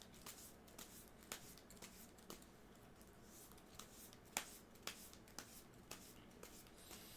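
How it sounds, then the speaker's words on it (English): A deck of playing cards shuffled during a tabletop game session, heard as a steady riffle texture with repeated sharp snaps and clicks, quiet and close, with no talking. "So let me shuffle and then I'll try and find that."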